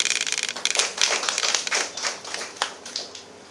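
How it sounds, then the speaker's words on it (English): An audience at an IAS/IPS preparation workshop applauding, a moderate burst of hand claps with uneven rhythm that thins out toward the end. "Round of applause to Santosh."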